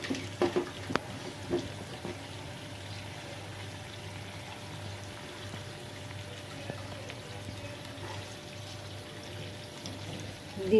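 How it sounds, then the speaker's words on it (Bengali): A small stream of water runs into a cooking pan of tangy puti fish curry, pouring quietly and steadily at moderate distance, with a few clinks at the start and no speech. "শুধু জলটা দেবো।"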